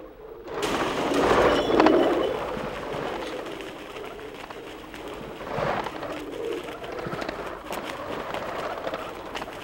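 Pigeons in Paris coo in low, throaty, rolling calls, loudest early on, then softer calls continuing over a steady background.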